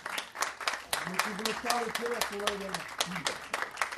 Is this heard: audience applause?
yes